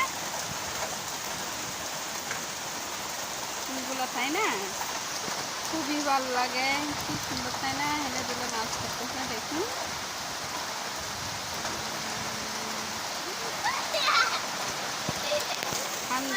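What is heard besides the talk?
rain falling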